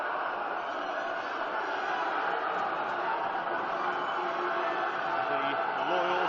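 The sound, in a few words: football crowd at youth FA Cup match getting louder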